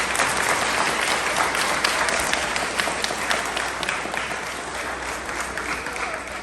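A full round of applause from the audience at a fifth-grade end-of-year school awards ceremony, steady, dense clapping that continues for several seconds at even loudness.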